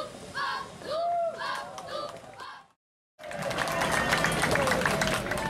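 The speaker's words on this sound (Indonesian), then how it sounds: "disambut tepuk tangan riuh segenap hadirin yang hadir" Children's police squad display at the 73rd Bhayangkara anniversary on the Brimob field in Kotaraja, Abepura: voices first, a short silence, then loud, dense, sustained applause from the gathered audience.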